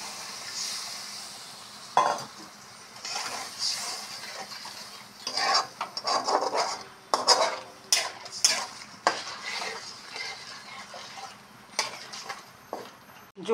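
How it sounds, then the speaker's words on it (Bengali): Crab curry gravy with fried potatoes bubbles and sizzles in a pan, with a utensil stirring and scraping against the metal in irregular bursts, close and fairly loud, without talk. "ঝোলটা ফুটে আসছে"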